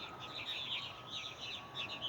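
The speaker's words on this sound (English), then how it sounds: "You know, so it's a lot of birds." A large roosting flock of fledgling purple martins arriving for the night, with continuous busy chirping and twittering in pulsing bursts, fairly faint and distant-sounding with no talk over it.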